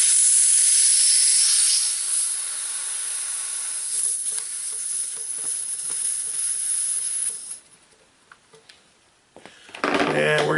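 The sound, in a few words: air hissing into a tire on a manual tire changer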